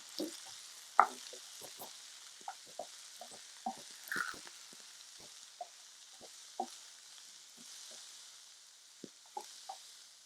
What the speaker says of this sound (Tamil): அதோட முட்டைக்கோசு ஓரளவு வதங்கிருச்சு